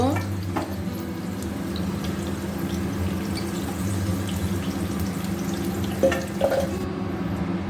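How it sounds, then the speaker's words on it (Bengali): Potato pieces fried reddish in oil with a little turmeric sizzle steadily as they are stirred in the pan, with a low background hum and a couple of scraping touches near the end. "এখন নেড়ে নেব এই যে আলুটা লাল লাল করে ভেজে নিয়েছি"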